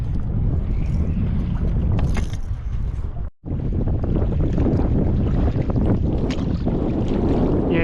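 Steady wind buffets a kayak while trolling lures for Murray cod on Lake Mulwala, a continuous loud rush with microphone wind noise and light water sounds, briefly cutting out midway.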